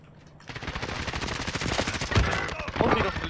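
Rapid bursts of AS VAL rifle gunfire in Call of Duty crack over a busy mix of game sound, with a louder single shot standing out near the end.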